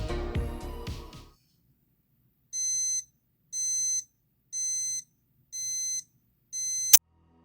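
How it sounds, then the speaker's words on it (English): Countdown timer alarm on a Casio QL-10 calculator lighter: a burst of other sound, a short pause, then five evenly spaced high electronic beep pulses, each about half a second long, ending with a sharp click. "I'm going to demo the countdown timer"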